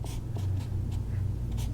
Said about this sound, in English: I can actually use my paper towel just to kind of wipe away where some of my lights